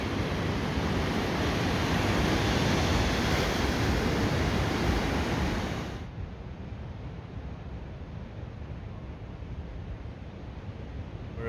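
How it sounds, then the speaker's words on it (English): Ocean waves on a beach in Da Nang, Vietnam, make a loud, continuous roar of surf mixed with wind, which drops to a softer, steady wash halfway through. "On the beach."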